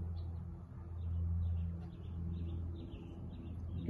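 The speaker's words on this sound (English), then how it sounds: "You can hear the birds humming." Faint morning bird chirps and calls repeating in the distance at Sandy Port, Nassau, Bahamas, over a low, steady rumble of background hum, with no one speaking.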